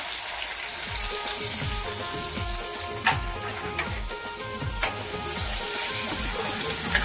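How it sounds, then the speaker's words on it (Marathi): Onions and ginger-garlic paste sizzle steadily in hot oil in a home kitchen, a continuous close frying hiss with occasional stirring clatters from a utensil against the pan. "कांदा जरा शिजवूया आपण।"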